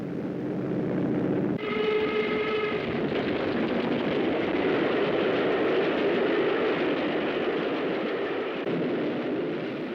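A short whistle blast gives way to the loud, continuous roar and rumble of a new LMS steam locomotive running steadily at speed on its maiden Scottish run.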